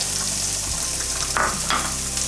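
Chopped shallot drops into hot peanut oil and sizzles up at once, a close, bright crackle with a couple of sharper spits over a steady frying hiss.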